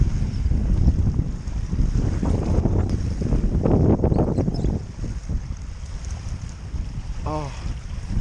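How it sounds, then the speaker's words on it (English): Strong wind buffeting the microphone at a reservoir shore while walking, a continuous loud roar with gusts and low rumble throughout. "Walking into the wind."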